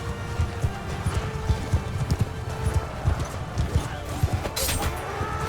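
Horse hooves gallop in rapid, uneven clip-clops amid a battle in Mount & Blade II: Bannerlord, fairly close and loud, with a short neigh, clatter of combat and someone speaking over it.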